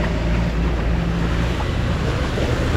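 A car pushes through deep floodwater in heavy monsoon rain on the road from Sangameshwar to Nalasopara, a dense, steady wash of rushing water and rain noise with a low rumble, loud and unbroken throughout.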